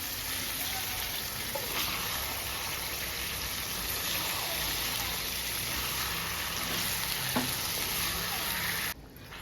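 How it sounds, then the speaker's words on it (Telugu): Turmeric and salt being stirred into rice tempering in a hot pan, a steady frying sizzle with faint scraping of the spoon, cutting off abruptly at the end. "పసుపు ఇప్పుడు బాగా కలిపించుకుందాం"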